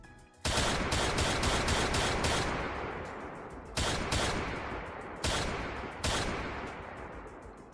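Video game gunfire from The Hundred Line: Last Defense Academy, loud bursts of rapid shots in several volleys, each with a decaying tail, close and alone without talk.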